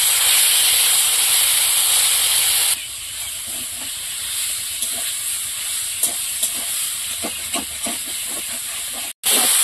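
Greens (shaak) cooking in a pan give a loud, steady steamy hiss that drops partway through, followed by a run of soft, irregular stirring scrapes and taps close by.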